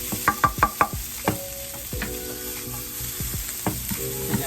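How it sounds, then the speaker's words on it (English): Onions frying in a pan for sesame pasta with chicken: a run of quick utensil clicks and scrapes at the start, then a steady soft sizzle with occasional stirring knocks, close and moderately quiet, no talking. "I like my onions to be a little soft, and I like cooked onions. So we're just going to make sure these are brown"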